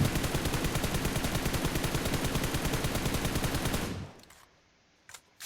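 Rapid automatic gunfire from the mobile battle-royale game PUBG Mobile, a loud, steady burst of closely spaced shots lasting about four seconds before cutting off, followed by near silence and a couple of faint clicks.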